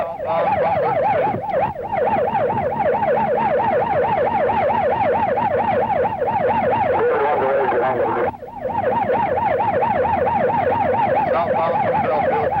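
A 1970-era Grand Rapids, Michigan police car siren wails loudly and steadily, rising and falling in a fast, even cycle for the whole stretch with only a brief dip near the end.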